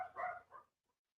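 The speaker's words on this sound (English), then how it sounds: "I don't know what the crap she's barking at" A dog lets out two short, muffled barks somewhere indoors, faint and a little distant, then falls quiet.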